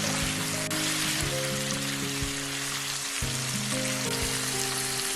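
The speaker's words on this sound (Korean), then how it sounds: "바로 양파를 넣어서 또 살짝 볶습니다" Onions stir-fried with thin-sliced pork belly in a pan, a dense steady crackling sizzle close up, with soft low musical tones running beneath it.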